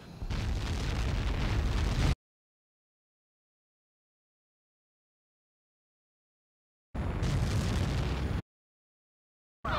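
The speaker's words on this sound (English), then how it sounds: "Explosion." Two loud, booming explosions in the video game Ace Combat 7 with rumbling noise, the first lasting about two seconds, then a long silence before the second and a third cut short at the end.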